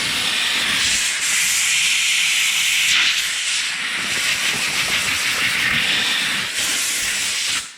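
Compressed air blasts steadily to clear debris off a tire rim after the bead was reseated with a 20 ton press and grease, a loud continuous hissing rush that wavers slightly before cutting off.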